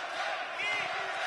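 Crowd at a K1 heavyweight kickboxing fight in Belgrade letting out a brief swelling roar of cheering, distant and fairly faint, rising slightly midway.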